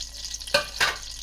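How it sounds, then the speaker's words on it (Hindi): Ghee heated in a pan after raisins are fried, for Sindhi panjiri: two short bursts of sizzle and stirring rise close up over a quiet kitchen background, with no talk. "अब किशमिश निकालेंगे और दोबारा हम इसमें घी डालेंगे"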